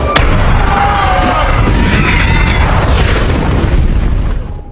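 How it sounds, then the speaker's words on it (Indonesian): A loud, rumbling explosion bursts out and roars on for several seconds before fading away. "Ketika di pintu gua, ketiganya disambut dengan ledakan yang hampir membuat Travis terpanggang api."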